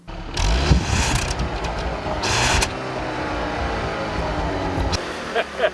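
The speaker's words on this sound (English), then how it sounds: "You know, Nathan, I hear more coming from under the hood than I do from the tailpipe" A 2013 Volkswagen CC R-Line engine with a manual 6-speed runs close by with a deep, steady rumble, swelling briefly near the start as if lightly revved, then holding an even drone.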